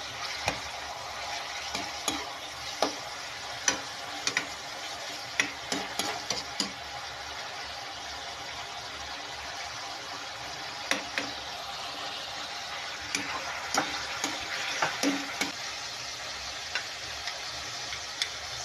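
Vegetables for Pangasinan-style pinakbet being stirred in a pan, an even bed of frying sizzle with frequent sharp ticking clicks and scrapes of the utensil against the pan over a long stretch; no one talks.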